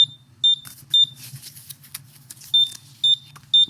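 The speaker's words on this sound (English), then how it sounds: "the beeping sound when you don't have paper in it" A Rongta RP420 thermal label printer with no paper loaded gives short, shrill electronic beeps, six in a steady repeating pattern with a brief gap in the middle, loud and close over a low mechanical hum.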